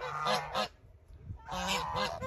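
Loud, close geese honking in a garden in Kırklareli, Turkey, in two clamorous bursts separated by a brief lull, many birds calling over one another.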